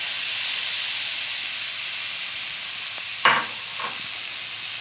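Onion and potatoes sizzle in a hot pan with no oil or ghee, a steady close hiss throughout, broken near the end by a brief clatter of stirring.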